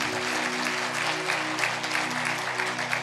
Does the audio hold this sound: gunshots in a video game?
no